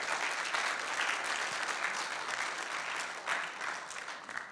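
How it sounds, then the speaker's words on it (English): Steady, dense applause from a conference audience at a medical session fills the room at close range, holding even throughout with no voice on top. "So thank you for the applause"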